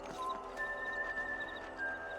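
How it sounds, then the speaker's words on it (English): A horse being mounted and ridden in the Red Dead Redemption video game: soft clip-clop hoofbeats and a brief whinny over a steady musical and ambient bed, with no talk. "Let's mount up and patrol the ranch"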